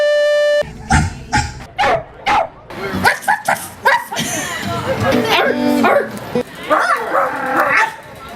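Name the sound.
people imitating dog barking in a human barking contest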